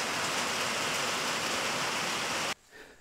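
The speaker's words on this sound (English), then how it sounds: "that rain only lasts about 5 minutes" A steady rain shower pours as dense, loud hiss for several seconds, then cuts off abruptly, leaving quiet background noise.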